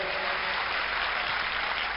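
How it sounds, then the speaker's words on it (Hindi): A crowd applauds a comedy performance at a Kumbh Mela camp event in Ujjain, a dense, continuous clapping that stays even and loud for the whole stretch. "एक बार जोरदार तालियों से राजू श्रीवास्तव जी को बधाई दें।"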